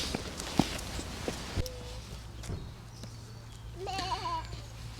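Several wavering goat bleats in the latter half at a zoo in Germany, over outdoor background noise with a few scattered thumps and faint voices.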